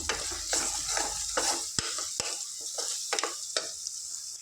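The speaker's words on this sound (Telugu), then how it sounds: "ఒక వన్ స్పూన్ అల్లం వెల్లుల్లి పేస్ట్ వేసుకుంటాను దీన్ని అల్లం వెల్లుల్లి పేస్ట్ పచ్చివాసన పోయే వరకు ఫ్రై చేసుకుందాం" Onions and ginger-garlic paste fry in a pan for a small-fish curry, a continuous bright sizzle broken by a few sharp metal spoon knocks and scrapes as the mixture is stirred up close.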